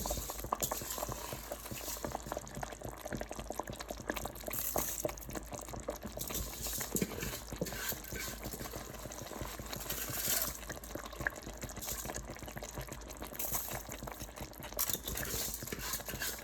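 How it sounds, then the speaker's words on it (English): Rice going into a pot of boiling water for Ghanaian jollof, with a steady bubbling and simmering hiss holding at a constant low-to-moderate level throughout, close by and with no talk. "We are adding every last bit of rice because this is a family favorite."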